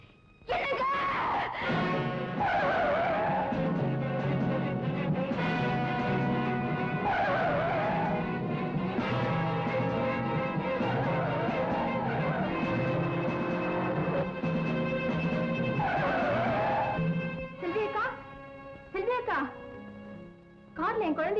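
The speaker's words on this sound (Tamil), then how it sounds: "அவன் காரை எடுத்துக்கிட்டு வேகமா போறான்." A car speeds away with its tires skidding and squealing in long, loud, wavering screeches over a roaring engine, while voices cry out in the background.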